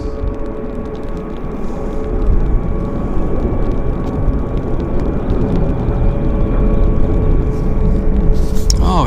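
An Air Canada airliner lands on a wet runway, a steady loud roar of engines and spray that builds and holds throughout, with a brief sharper rush near the end.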